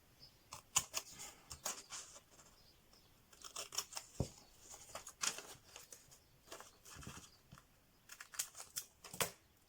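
Repeated crisp snips and rustles of scissors cutting around a shape on white paper for a bullet journal page, in irregular short bursts, close up and quiet, with no talking.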